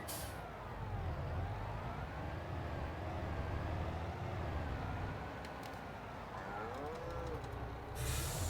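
Cows mooing in Farming Simulator 22, drawn-out lowing calls that rise and fall across the stretch, fairly faint over a low farmyard hum, with a few short clicks near the end.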